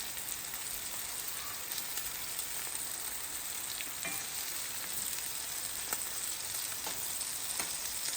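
Butter and garlic sizzle in a pan beside a sous vide pork chop, a steady bright crackling hiss with scattered pops running continuously and fairly quietly throughout.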